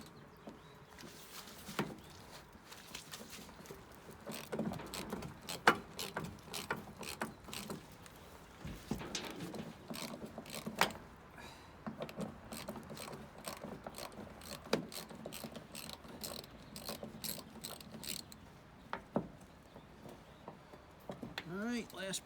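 A wrench works bolts loose on a junk El Camino, with repeated ratcheting clicks and metallic clanks in irregular bursts, close by, under intermittent talking.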